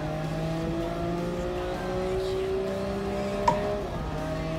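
Nissan GT-R race car in Gran Turismo Sport, its engine whining steadily with tones climbing and dipping through gear changes, plus a brief sharp bump near the end, moderately loud and with no talking.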